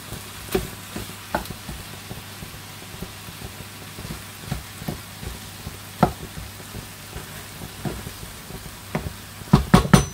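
Bacon lardons fry in their own rendered fat with no oil added, giving a steady soft crackle and sizzle, broken by scattered sharper pops and a few stirring clatters near the end.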